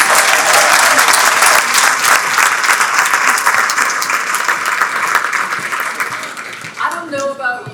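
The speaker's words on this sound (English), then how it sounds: "Let's give her one more round of applause." A crowd applauds steadily with dense, sustained clapping, and a voice starts talking as the clapping begins to fade at the end.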